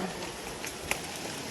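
Steady rain falls across a cemented forest trail in Majayjay, Laguna, a soft continuous wash of drops with one brief sharper tap partway through, fairly quiet and even throughout.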